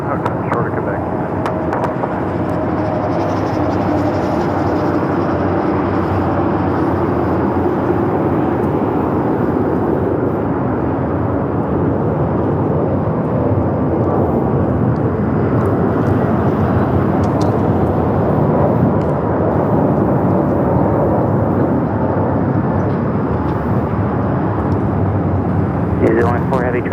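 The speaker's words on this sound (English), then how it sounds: "That is Air New Zealand Flight 4 coming in from Auckland on the 777-300ER." An Air New Zealand Boeing 777-300ER arriving from Auckland at LAX, a loud, constant jet rumble with a broad roar that stays steady while someone talks over it.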